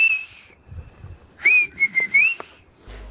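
Canarian silbo whistled language captured on a low-quality phone: a long sustained whistle tone opens, then after a pause a set of gliding, modulated whistled phrases follow in quick succession, fairly loud against a faint background with no speech.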